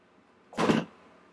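A single short spray of Glam Glow face mist, a quick close puff of airy hiss lasting under half a second amid quiet room tone.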